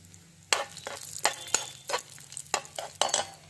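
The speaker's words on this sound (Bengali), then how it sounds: "এই ঘিয়ের মধ্যে প্রথমে আমি দিয়ে দেবো কিছু কাজু কিশমিশ, দিয়ে ভালো করে ভেজে নেব" Cashews and raisins fry in hot ghee for carrot halwa while a spoon stirs them, sending up bursts of sizzling. Several sharp scraping strokes land at irregular intervals over a steady low crackle, and no one speaks.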